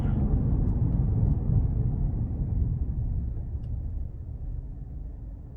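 A 2021 GMC Yukon XL Denali with a 6.2 engine slows to a complete stop under adaptive cruise control, its low road rumble steadily fading as the vehicle comes to rest, with no talking.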